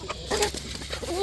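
Chickens clucking nearby in a backyard coop, a short run of soft, broken clucks and calls over a low hum of outdoor noise.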